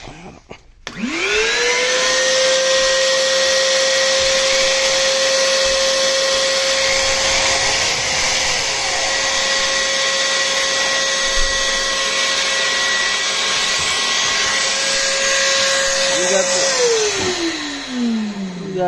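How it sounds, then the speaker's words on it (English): A drill whines up to speed and holds a steady high tone while boring a pilot hole in a KTM 530 part, then winds down near the end; close, loud, no speech. "I think I'm gonna start with a pilot hole, and then I'm gonna make the big hole."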